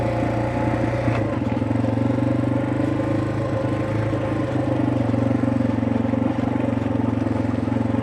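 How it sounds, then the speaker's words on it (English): Off-road motorcycle engine braking down a rough trail near a creek crossing, a steady low droning engine note with rolling rumble and occasional clatter and scrape, continuous and fairly loud with no talking. "Mostly engine braking, a little bit of rear braking, get down this stuff at a good speed."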